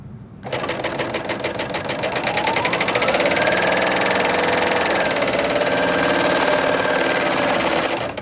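A serger stitching a straight seam on quilt fabric starts up and then runs steadily, a loud, rapid mechanical whirr that holds for several seconds.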